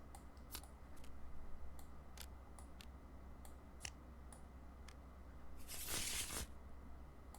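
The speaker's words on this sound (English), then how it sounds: "I wonder if they'll shuffle when they're in a stack like this." Arkham Horror game cards being riffled in a stack, a short, dense burst of papery flutter near the end, preceded by scattered light clicks and taps from handling the cards, close and fairly quiet with no talking.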